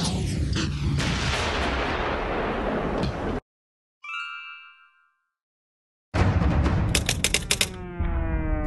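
Loud gunfire aimed at a deer, a dense sustained volley of shots followed by silence, a short ringing tone, then another burst of rapid, sharp shots with metallic rings.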